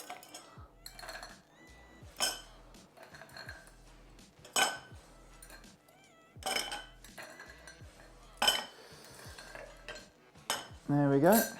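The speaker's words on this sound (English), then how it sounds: "Add our ice, obviously, and we're going to stir it down again." A chocolate Negroni cocktail being stirred with ice: a bar spoon clinks and rattles against ice cubes in a glass, in uneven bursts of sharp metallic and icy clinks, close up with no talking.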